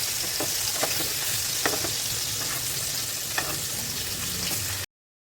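Stuffed bitter gourd fries in a pan with a steady close sizzle, broken by a few soft scraping taps as the pieces are turned, ending abruptly in silence.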